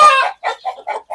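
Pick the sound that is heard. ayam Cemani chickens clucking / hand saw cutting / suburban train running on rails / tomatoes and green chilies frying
ayam Cemani chickens clucking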